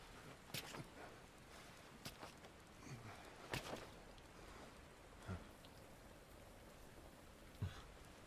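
Rain falls in the Kingdom Hearts Unchained x video game, a faint steady patter with a few louder scattered drops and splashes, heard alone without voices.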